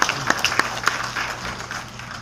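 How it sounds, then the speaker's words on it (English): An audience at a teacher award ceremony applauds a nominee, a few sharp claps at first then a softer, thinning patter of clapping heard at a moderate distance. "a round of applause for our nominee, Mr. Paul M. Kelly"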